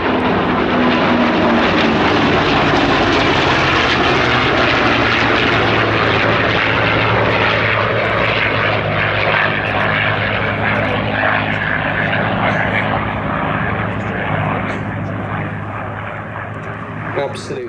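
A P-38 Lightning twin-engine propeller fighter roars past at an air show, a loud sustained engine drone that slowly fades as it moves away, with a voice talking over it.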